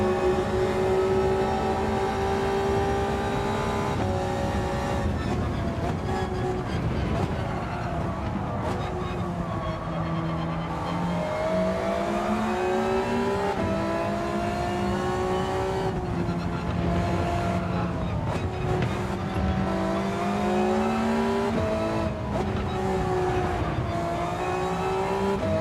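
A GT500 race car engine in Gran Turismo 7 at Suzuka drones loudly and continuously, its pitch rising and falling through repeated gear changes and revs over a long stretch.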